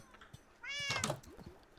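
A single cat meows in the Minecraft video game, one clear, rising-and-falling call at close range over a quiet background with a few soft clicks.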